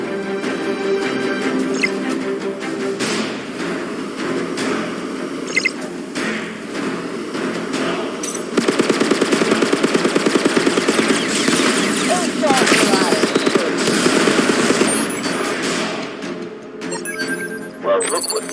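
Gunfire in the space game Phantom Galaxies, a rapid rattling stream of shots running under game music and voiced dialogue, loudest and most continuous through the middle stretch.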